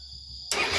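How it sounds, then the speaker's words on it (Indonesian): A Suzuki Satria FU motorbike's electric starter, fitted with a substitute bendix from an underbone scooter, cranking the engine: after half a second of quiet, a sudden loud, continuous whirring grind takes over. "pencet starter"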